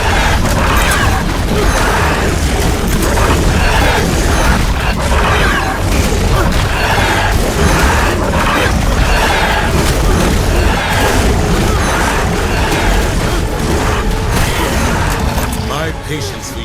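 Red element crystals explode during an alpha Lost Queen boss fight on ASA's Lost Colony, a dense, continuous roar of crashing booms and clanking mechanical bursts that stays loud and close for the whole stretch.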